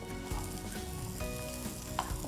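Steady sizzling from a pan of rice and lentils being fried for Bengali bhuni khichuri, with a few scraping stirs and clinks, no one speaking.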